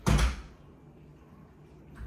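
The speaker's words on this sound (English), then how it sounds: "If she does jump on me when I come in the door, I immediately close it." A door swung shut with a single close thud near the start, followed by quiet room tone while someone arrives during dog jump-training with a dog named Penny.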